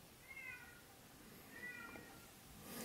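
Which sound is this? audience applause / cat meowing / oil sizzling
cat meowing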